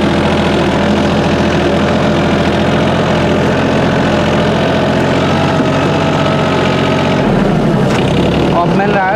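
A Mahindra OJA 2127 tractor engine runs steadily in low fourth gear, a loud, continuous mid-to-low drone with a rough vibration that holds throughout and shifts slightly near the end.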